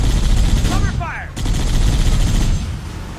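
Loud, dense bursts of gunfire from the video game Halo: The Master Chief Collection, with a brief burst of game voice chatter partway through.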